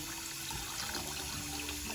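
Sushi rice being rinsed in cold water to wash out the starch, a continuous close sloshing and trickling of water with no talk.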